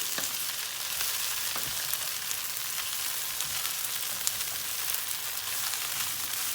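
Tomato paste, eggplant, pepper and rice sautéing in a pan, a steady close sizzle with faint stirring scrapes throughout, no voices.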